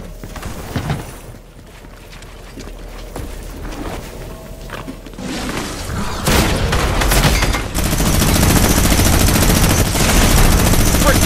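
Fortnite gunfire crackles in a dense, loud stretch of rapid bursts that grow heavier and nearly continuous toward the end, with excited voices shouting over the shots.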